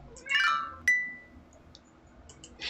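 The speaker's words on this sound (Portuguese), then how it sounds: "Eu espero que dê pra ouvir o nosso gato miar aqui do lado, porque ele miou" A house cat meows nearby during an indoor quilting talk, giving a couple of short, bright meows about a second apart over a quiet room, with no talk over it.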